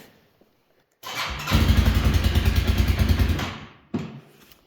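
A Rally USA 250 ATV engine cranks and catches, then runs loudly with a steady pulsing rumble for a couple of seconds before cutting out, followed by a brief restart burst.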